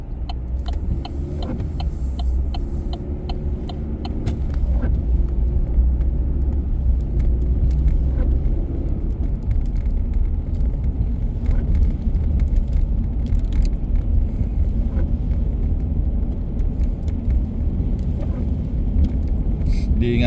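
A truck drives along a slippery winter road in Canada, its engine a steady loud rumble with road noise throughout, and a voice speaks briefly over it.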